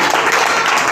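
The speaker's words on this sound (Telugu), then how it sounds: "చప్పట్లు కొట్టండి ఒకసారి" A church congregation claps together during an Easter Sunday sermon, a dense continuous wash of applause filling the room at a steady loud level with no voices on top.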